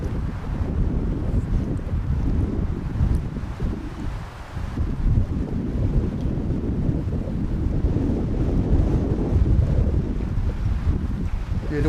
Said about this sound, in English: the wind's definitely changed directions now